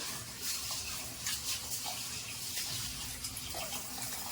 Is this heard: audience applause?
no